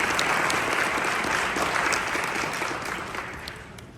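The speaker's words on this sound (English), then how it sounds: "give him a big round of applause" A live event audience applauds a real estate coach's first client, a dense, steady wash of clapping close by that slowly tapers toward the end.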